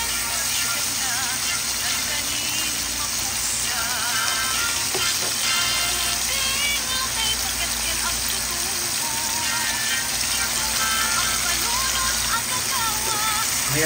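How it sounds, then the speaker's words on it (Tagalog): Tomato sautéing in bagoong shrimp paste in a pan, ahead of squash being added, gives a steady, dense sizzle of frying that runs unbroken throughout, loud and close. "Ginigisa ko na po siya sa bagoong."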